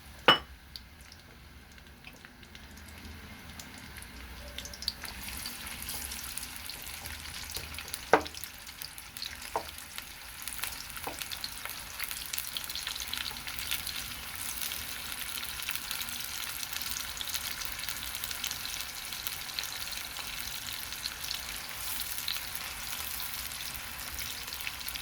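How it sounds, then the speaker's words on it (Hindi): Onion fries in a pan until golden brown with a steady, even sizzle that grows slightly over time, marked by a few early clinks of stirring and no voices. "एक प्याज डाल दिया, इसे गोल्डन ब्राउन करना है"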